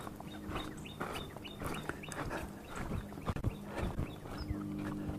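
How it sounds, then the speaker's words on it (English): Birds singing along a nature trail at a nature center in Fredericksburg, Texas, with repeated chirps and tweets over steady outdoor background noise and a few rustling or footstep sounds, no voices. "Hopefully you hear the pretty birds, because we like the pretty birds."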